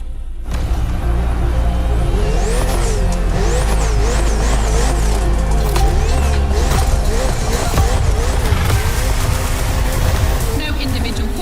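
A Ferrari race car roars around a circuit in the racing video game Motorfest, its engine revving and shifting continuously with tire squeals and rising whines over loud, dense game sound.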